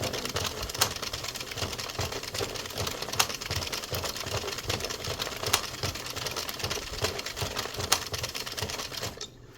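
Hand crank turning an Addi 22 knitting machine, a fast, even mechanical clatter of clicking needles heard up close, with a louder clack recurring every couple of seconds.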